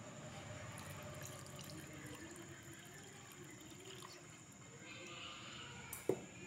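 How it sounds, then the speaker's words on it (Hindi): Milk poured into cake batter in a home kitchen, a steady low liquid trickle and splash lasting several seconds, faint and close, ending with a small clink. "अभी मैं दूध डाल लेती हूँ,"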